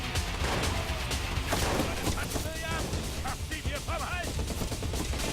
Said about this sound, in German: Wo ist der Typ, der geschossen hat gerade?